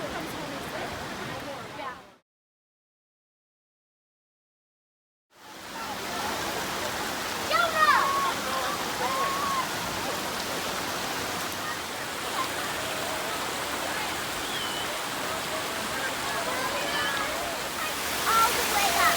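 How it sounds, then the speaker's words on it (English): A steady roar of Bridal Veil Falls in Utah fills the scene, broad and continuous, broken by a few seconds of silence near the start, with voices faintly beneath. "What are we gonna see? A waterfall."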